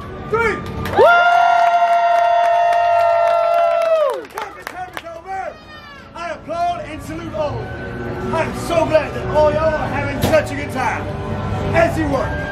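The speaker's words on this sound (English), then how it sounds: "I want all y'all to clap, cheer, and scream as loud as you can" A crowd at the Toy Story Land opening screams with one long sustained shout, then claps, cheers and whoops as it fades into scattered shouts and chatter, loud and close.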